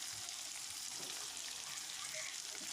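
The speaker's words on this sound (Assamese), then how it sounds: "মই আলুখিনিৰ সৈতে মাংসখিনি ভালদৰে ভাজি লৈছোঁ" Local chicken and potato pieces frying together make a faint, continuous sizzle with gentle bubbling and occasional soft stirring, and nobody talks.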